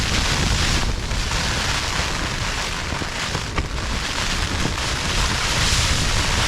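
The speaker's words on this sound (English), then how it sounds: "the wind's coming from the northeast and all around here is stone in the ground" A strong storm wind roars and buffets across an exposed wild campsite, a loud and continuous rushing that batters the microphone with no letup.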